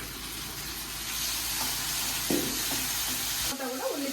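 Tomatoes and onions hiss and sizzle continuously in a pan, the frying fading near the end as someone begins speaking.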